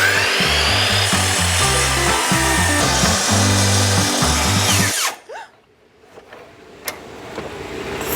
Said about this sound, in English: it seemed easier to cut this on my miter saw than to try and do this with my circular saw